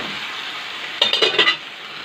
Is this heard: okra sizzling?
yes